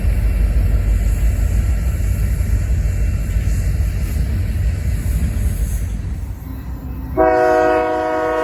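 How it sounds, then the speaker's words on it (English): A pair of locomotives rumbles past with heavy, loud rolling noise, then a multi-tone Nathan K3L train horn on the lead engine blares near the end, strong and close. "these two engines equipped and attached with a Nathan K3L horn on the first engine"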